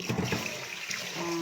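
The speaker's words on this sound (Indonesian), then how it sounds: "Nah buang guys, airnya dibuang. Ini cucian pertama ya. Nah di situ cuci lagi." Water from rinsing rice being poured off, a short splashing and trickling burst of a second and a half, moderately close.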